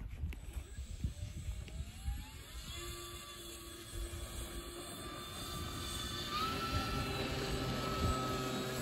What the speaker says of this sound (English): Ryan's twin otter on his maiden flight today